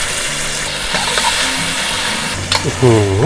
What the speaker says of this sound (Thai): ผัดพริกกระเทียมของเราให้สุกหอมก่อนเลยนะจ๊ะ